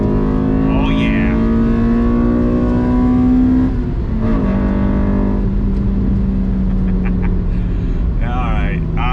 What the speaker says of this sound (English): Listen to that VTEC.